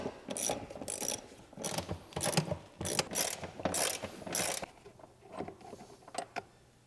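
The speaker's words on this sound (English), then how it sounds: "remove the 4 bolts holding the seat in place using a 13mm wrench" A 13mm ratcheting wrench works the seat bolts on a Ford F150 Raptor, a series of quick clicking ratchet bursts in short rhythmic runs, close and fairly quiet, then fading to faint handling noise.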